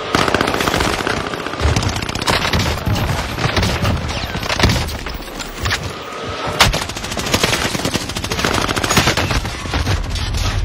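Gunfire from a weapon in the video game Warzone Rebirth: dense, loud bursts of rapid automatic shots with occasional heavier booms and crashes, continuous and close throughout.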